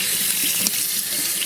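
Tap water runs steadily into a bath while a capuchin monkey is rinsed, a close, continuous hiss and splash with faint small knocks, no voices.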